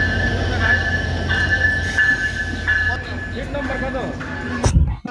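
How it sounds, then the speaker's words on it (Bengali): A train pulls into a station platform, with a steady rumble of railcars, a sustained high squeal from the wheels, and a sharp clatter near the end, under continuous talk from people nearby. "এই যে চলে এসেছে ট্রেন, ট্রেন চলে এসেছে।"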